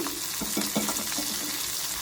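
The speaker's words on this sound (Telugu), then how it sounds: "తయారైన తాలింపుని పప్పులో వేసుకుంటున్నాను" Hot tempering of spices in oil, the tadka for a brinjal and raw mango dal, pours into the dal with a close, steady sizzling hiss and a few soft splashy bursts.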